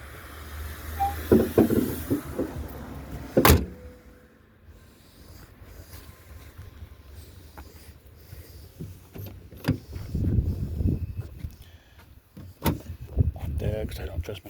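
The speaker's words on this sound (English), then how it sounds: "I'm going to close up my truck because it's about to rain out here." Truck doors are shut and locked ahead of rain, several sharp slams and clunks scattered through the passage, some loud and near, with rustling and handling noises and a person speaking between them.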